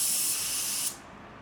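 A paint spray gun fitted with a flow air cap lets out a loud, steady hiss of atomizing spray, then cuts off sharply just before the end and leaves a faint room tone.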